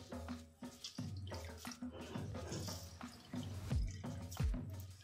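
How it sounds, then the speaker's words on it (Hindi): Soaked bread is squeezed by hand, releasing water that splashes and drips into a bowl in several bursts, close and fairly quiet, with no talking. "ब्रेड को मैंने पानी में डिप करके रखा है ताकि ये थोड़े से नरम हो जाए"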